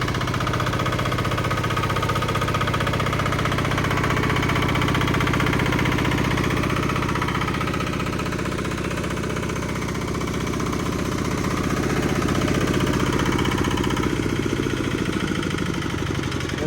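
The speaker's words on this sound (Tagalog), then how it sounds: "So ito Yanmar. So modelo na tong makina na to, NF6." A Yanmar NF6 surplus Japanese diesel engine idles steadily and loudly at close range, a constant low rumble with a continuous mechanical drone and no talking over it.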